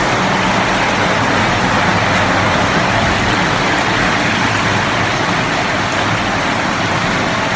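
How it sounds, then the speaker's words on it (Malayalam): Heavy rain pours outside a house, a dense, loud, unbroken hiss of falling water that holds steady throughout with no voices. "പുറത്ത് നല്ല മഴ പെയ്യുന്നുണ്ട്"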